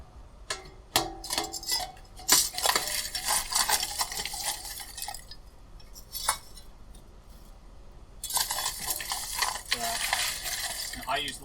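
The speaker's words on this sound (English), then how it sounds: "So we're going to put some charcoal in and get it going." Lump charcoal poured and dropped into a grill before mesquite smoking: clinking, rattling chunks tumble onto a metal grate in close bursts, pausing briefly before another clattering pour.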